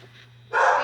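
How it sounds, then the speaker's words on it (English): A single sharp dog bark bursts out suddenly after a moment of near silence, loud and close. "you can hear my dog in the background"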